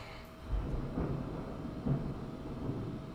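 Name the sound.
thunder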